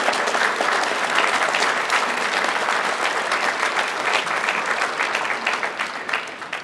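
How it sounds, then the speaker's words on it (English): An audience at a conservation district banquet applauds, a sustained burst of dense, even clapping from many hands that tapers off slightly at the end, with no talking over it. "let's give her one more round of applause"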